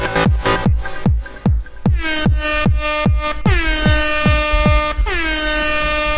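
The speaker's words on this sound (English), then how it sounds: "the air horn." Loud blasts of an air horn, starting as quick repeated honks and then stretching into longer sustained blares, close and alone.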